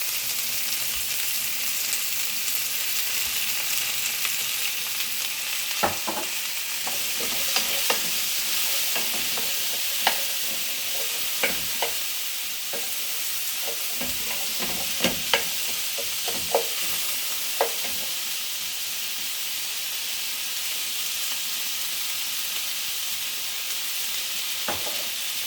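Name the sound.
blue crab curry frying and being stirred in oil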